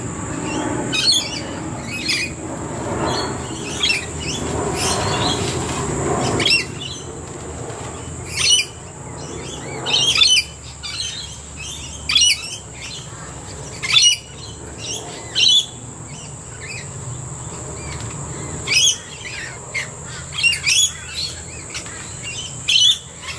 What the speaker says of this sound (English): That's one of my family of magpies.